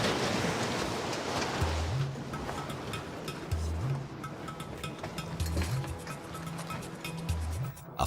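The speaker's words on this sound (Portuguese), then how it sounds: "A forte ondulação no barco não pressagia nada de bom." Strong ocean swell around a boat off Polynesia, a constant rushing wash of water and wind, fairly faint and distant, with a low engine-like hum pulsing in and out beneath it.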